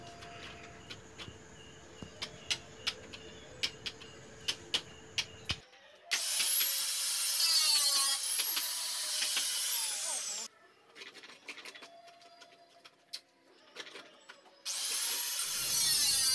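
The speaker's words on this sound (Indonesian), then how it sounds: "kita gunakan gerinda" An angle grinder cuts into a metal frame for a sliding gate, measuring 170 by 160. Two long, loud, high-pitched grinding bursts ring out, with quieter tapping and workshop noise before and between them.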